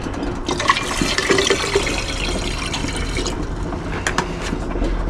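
Liquid poured off from a container during gold recovery from transistors, a steady close watery trickle and splash running through most of the stretch with small clinks, no voices.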